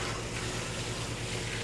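Cold water runs steadily from a tap while a puppy is bathed, a continuous close gushing stream with no pauses.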